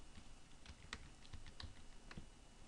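Keys clatter on a computer keyboard as grades are typed in, giving a string of quiet, irregular clicks and taps with brief pauses, close and alone with no talk.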